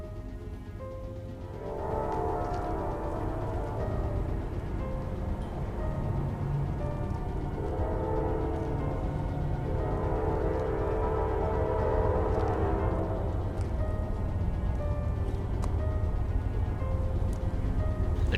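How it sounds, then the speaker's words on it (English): A train approaching a crossing at 50 miles an hour rumbles closer and grows louder, its horn blaring in long, sustained blasts over the steady roar of the rails. "The train was now approaching the crossing at 50 miles an hour."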